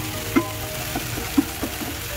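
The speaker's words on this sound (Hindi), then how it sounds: "मैं अपना ये मटर को और टमाटर को थोड़ा भून रहा हूँ" Peas and tomatoes frying in a pan while making Maggi noodles: a quiet, steady sizzle with a couple of soft clicks from stirring, close by and without talk.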